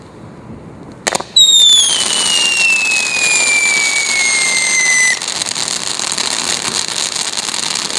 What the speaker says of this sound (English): The 500-gram fountain is high output and sure to delight in any show.